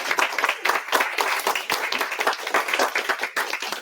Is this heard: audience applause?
yes